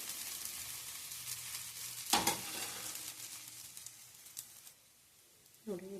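Dosa batter sizzles steadily on a hot pan, a soft continuous frying hiss with a brief louder burst of spatter partway through as the dosa is turned.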